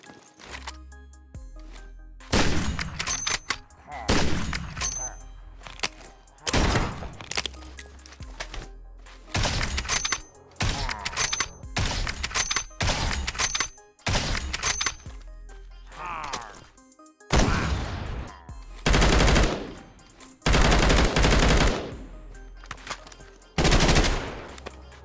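Guns from a Minecraft 1.20.1 gun mod, including pistols, assault rifles and sniper rifles, fire in repeated loud bursts of single shots and rapid automatic volleys, separated by short pauses and mechanical clicks.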